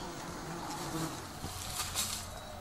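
Honeybees in a hive colony make a dense, steady buzzing drone, close and continuous throughout.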